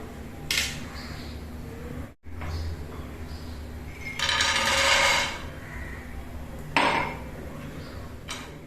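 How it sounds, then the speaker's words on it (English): Peanuts and garlic clatter and scrape as they are stirred while dry-roasting in a pan, with a few metallic scrapes and one longer rattling burst of stirring. "Roast it nicely, slowly, keep on stirring it."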